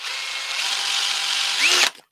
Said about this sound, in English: using some needle nose pliers and using the drill